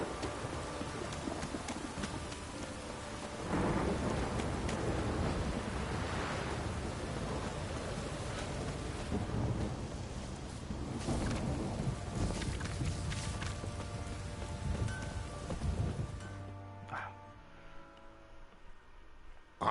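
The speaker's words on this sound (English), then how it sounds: "Still freaking raining." Steady rain falls with low rumbles of thunder in the Witcher 3: Wild Hunt video game, a dense wash of noise with horse hooves clip-clopping through it, fading toward the end.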